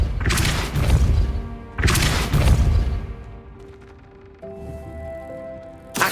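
Depulso spell cast in Hogwarts Legacy: two loud, forceful bursts with crashing thumps in quick succession, then a quieter tonal hum fading out and a final short hit at the end.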